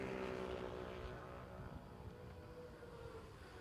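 Racing boat engines in Class 2 throttle up, a steady loud motor drone with droning harmonics that holds through the clip and eases slightly after the first second.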